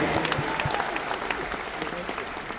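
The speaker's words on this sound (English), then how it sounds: "And our president, Michael Berdor, can we give him a big clap?" Dense audience applause at a large event with a crowd, steady clapping throughout the short stretch with a murmur of voices underneath.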